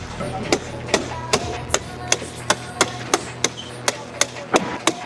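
A staple gun fixing printed fabric wrap onto exhibition stand walls: a steady series of about twelve sharp, evenly spaced clacks, close and loud, over a low background hum.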